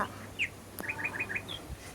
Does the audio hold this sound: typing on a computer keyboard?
no